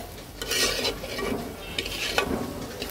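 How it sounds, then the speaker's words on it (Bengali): Spice paste for a prawn and taro stolon curry frying in oil, a soft continuous sizzle broken by a few scraping stirs of a spoon, close up with no voices. "মশলাটাকে তেলের মধ্যে সুন্দর করে একটু ভেজে নিতে হবে"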